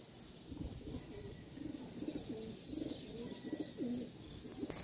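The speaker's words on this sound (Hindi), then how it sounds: "हमारे सारे कबूतर आके बैठ गए।" Pigeons coo softly after settling back onto their perch, a repeated low rolling murmur from several birds at close range over faint outdoor background noise.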